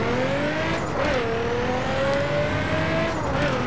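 A performance car's engine drones steadily while driving in The Crew Wild Run, a continuous mid-pitched hum that rises and dips slightly with throttle, close and consistent throughout.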